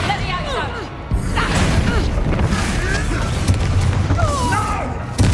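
A Confringo spell exploding in Hogwarts Legacy, with loud booming blasts and crackling over dense combat noise and whooshes, while a voice shouts.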